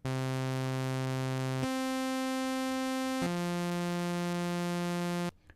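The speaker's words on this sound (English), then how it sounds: "And the ramped saw." Bright, buzzy ramped sawtooth wave from the Grind synthesizer app, playing three sustained notes with rich harmonics: a low pitch, a step up, then a slightly lower one before stopping abruptly.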